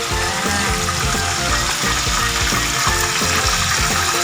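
Kembung fish fries in oil over a moderate flame, giving a loud, continuous sizzle and crackle that stays dense throughout with no voices.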